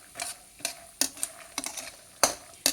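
A spoon stirs boondi mixture frying in a little oil in a pan, giving sharp scraping strokes spaced irregularly over a soft sizzle, close up.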